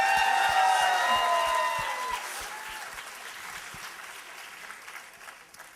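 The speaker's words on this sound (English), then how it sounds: "Big round of applause." Audience applause after a humorous speech at a speech contest, starting full and steady, then thinning out and fading to scattered claps while a voice speaks over the tail.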